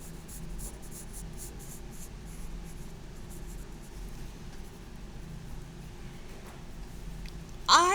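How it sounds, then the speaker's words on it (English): Eraser gently rubbing out pencil circles on paper, a soft continuous scratchy rubbing that stays steady and close throughout, with a brief louder noise at the very end. "So we're going to go ahead and gently erase all of our"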